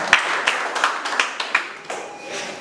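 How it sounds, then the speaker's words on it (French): Wedding guests at a Haitian ceremony clap in a room, with sharp individual claps popping out of a lighter, scattered patter of applause that thins slightly toward the end. "Applaudissements Dieu"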